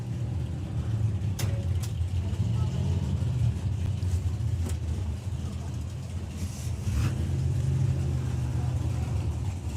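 A green Jaguar E-Type drag racing car at the Springspeed Nationals runs its engine in a steady, loud low rumble that swells and eases, heard under an announcer and general track noise.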